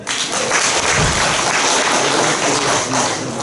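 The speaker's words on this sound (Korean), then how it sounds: "박수 한번 치세요." An audience at a Christian forum on North Korea missions bursts into loud, dense applause, a steady roar of many hands clapping at once that stays strong for several seconds, with no voices over it.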